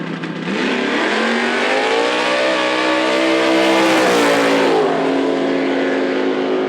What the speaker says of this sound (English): Jesse takes the early lead and moves on to the next round in the yellow Camaro.